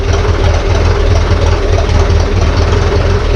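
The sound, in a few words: Ferguson tractor engine running with PTO turning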